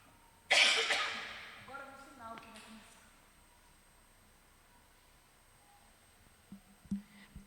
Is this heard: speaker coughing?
yes